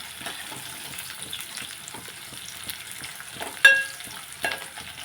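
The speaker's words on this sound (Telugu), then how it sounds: "ఇవన్నీ ఉల్లిపాయ వేగాక మనం పప్పుచారు తాలింపేసేద్దాం." Onions fry in a pan before the tempering for pappucharu dal. A soft, steady sizzle sits under a few brief clinks of a utensil against the pan, and no one speaks.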